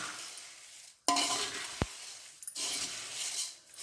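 Puffed rice (kara pori) being stirred in a large vessel after frying: two loud bursts of dry rustling and scraping with a sharp knock of the utensil between them, close and alone.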